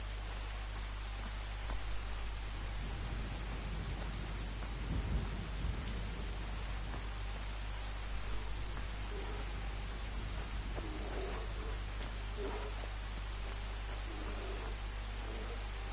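Steady rain and rolling thunder of a thunderstorm in the game Skyrim, a dense continuous downpour with low rumbles building and swelling around the middle, no voices.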